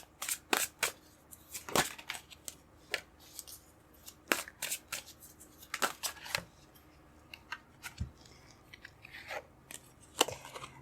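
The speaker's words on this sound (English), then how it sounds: "I'm going to pull out the cards first, and then I'll look at it." Tarot cards are shuffled and pulled from the deck in a run of sharp, close riffles and slaps that come in quick irregular bursts over a quiet background, with no talk.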